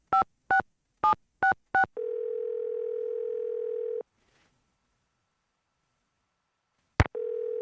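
Telephone in the Nancy Drew mystery game: five quick dialing tones, a steady two-second connection tone, silence, then a sharp click and the tone resuming, clean and close with no talk.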